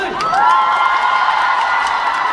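Fans at a Hong Kong fan meeting for Park Bo-gum cheer with a high-pitched, sustained crowd roar of screams, with faint scattered clapping beneath.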